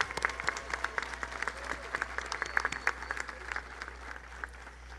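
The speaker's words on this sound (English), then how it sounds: "Please stand and we will applaud." An audience at a 2017 college commencement applauds steadily, a dense mid-distance wash of many hands clapping that carries on without a break across the whole stretch, with no voices audible over it.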